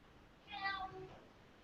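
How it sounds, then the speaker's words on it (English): A pet cat gives a single clear meow that rises and then trails off, close to the microphone in a quiet room, with no one speaking over it. "That's my cat."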